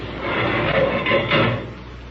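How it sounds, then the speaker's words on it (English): A metal spaceship cabin door opens in an old-time radio drama, releasing a steady broadband rush of escaping air that swells in waves for about two seconds before easing off. "Boy, did you feel the air in this cabin rush out when I opened that door?"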